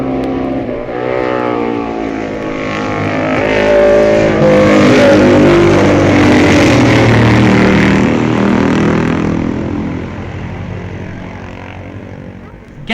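Mike Hailwood's MV racing motorcycle at the 1965 Isle of Man TT roars loudly past on lap four, its engine note swelling to a peak and then fading as it draws away.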